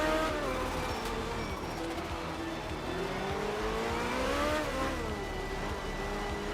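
Ford Cosworth RS200 rally car engine in a racing video game, a steady loud drone whose pitch rises and falls as it revs through the gears, with no talking.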